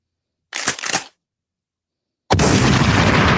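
Gunshot sound effect: a short pair of sharp bursts, then after a silent gap a loud sustained blast of noise that runs to the end.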